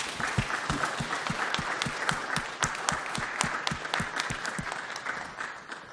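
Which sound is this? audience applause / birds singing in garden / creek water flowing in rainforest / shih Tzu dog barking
audience applause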